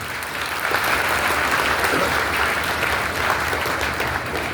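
Steady, dense applause from a school audience honouring a principal, a continuous wash of many hands clapping at even loudness for a few seconds, with no voices over it.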